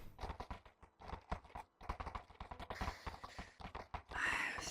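A horse's hooves clip-clop at a moderate pace while it is ridden, a steady, fairly close series of soft hoofbeats that grows brighter near the end.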